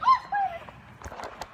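A dog gives two short, loud yelps or barks close by near the start, then quieter scuffling and faint movement follow outdoors.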